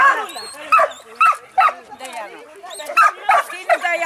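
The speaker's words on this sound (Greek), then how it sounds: "Πολύ ήρεμο σκυλάκι, φιλικό το βλέπω." A small dog barks and yips repeatedly at a stray-animal adoption day in Perama. Sharp, close barks come in an uneven series, mixed with whimpery yelps, and people talk over and between them.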